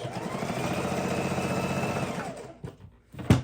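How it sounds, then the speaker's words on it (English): A sewing machine stitches straight across a quilted fabric soup bowl cozy, a steady rapid close whir for about two seconds that winds down and stops, followed by a short knock. "we're going to sew across. Back stitch"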